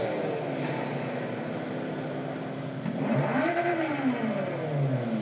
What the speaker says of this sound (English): Just rev it up.